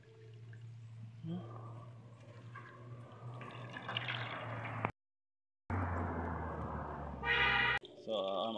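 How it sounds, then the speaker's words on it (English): Fresh carrot juice with ginger is strained by hand on a Jamaican farm, liquid pouring and dripping in short uneven bursts with squeezing noises and brief pauses. "So I'm straining it off now, taking the trash out of it, and get the pure juice."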